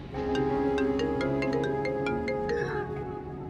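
A phone ringtone plays a bright, repeating electronic melody, steady and fairly loud, with no one speaking over it.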